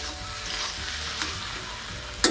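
Banana flower and prawns fry in a pan, a steady loud sizzle running throughout with faint scrapes of stirring and a sharp clatter near the end.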